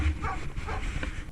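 A stray dog found swimming near a boat anchorage, now aboard, gives short close whimpering yips and soft barks over steady wind and water noise.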